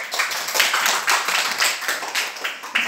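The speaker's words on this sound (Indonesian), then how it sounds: "Ya, tepuk tangan buat kelompok 2." Classroom of students clapping for a presenting group, a close, dense burst of many hands applauding steadily with a few sharper claps near the end.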